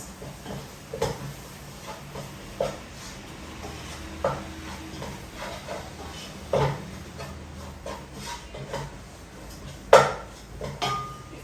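Utensils scrape and knock against a large pot in repeated strokes while mixing in fried chicken, with short clanks spaced every second or two and a louder clunk near the end.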